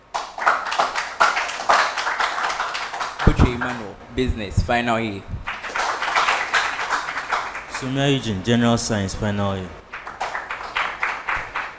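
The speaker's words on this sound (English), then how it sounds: "Give them a round of applause" Audience applause in a hall at a school quiz contest between PRESEC and Prempeh, dense rapid clapping that rises and falls, broken by a host announcing names.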